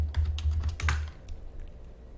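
A password is typed on a computer keyboard as a quick run of close, crisp key clicks lasting about a second, then a few fainter taps trailing off.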